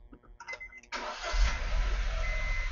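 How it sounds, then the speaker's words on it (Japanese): A white 2022 Honda S660 with a six-speed manual and Mugen aero kit starts up: a few quiet clicks and chimes, then the engine catches about a second in and settles into a steady, close idle. "ちょっとエンジンかけてみます。"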